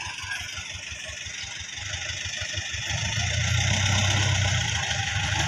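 A big-bike motorcycle engine idles with a steady low throb, then swells into a louder, fuller rumble partway through, heard fairly close with a hiss of road ambience around it.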